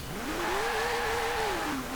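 1957 Porsche 356A Speedster in Forza Horizon 4, its engine note climbing steadily under acceleration then dipping as it shifts, a smooth buzzing rev heard up close with no voices.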